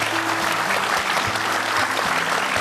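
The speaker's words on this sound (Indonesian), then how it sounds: "Kita berikan tepuk tangan dulu buat Arini." A television studio audience claps steadily and warmly, a dense, even wash of applause throughout.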